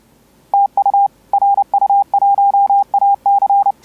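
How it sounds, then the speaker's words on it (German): Clean Morse code tones from a shortwave radio through a Wolfwave audio filter with its CW regenerator on, crisp steady beeps in a rhythmic pattern of dots and dashes over a quiet background. "Und das ist dann mit dem CW Regenerator eingeschaltet."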